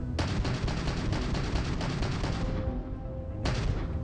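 Dense, sustained gunfire from the video game Starfield, rapid overlapping shots and booms rattling continuously for several seconds, easing briefly before another loud burst.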